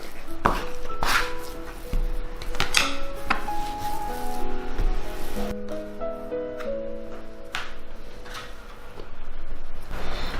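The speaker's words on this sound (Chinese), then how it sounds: "拉回来，再戳出去，一直这样子反复揉" Yogurt bread dough is kneaded by hand on a board, pushed out and pulled back in repeated soft thumps and slaps. A voice talks over it and music plays in the background.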